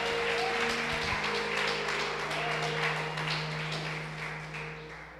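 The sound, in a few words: church congregation applauding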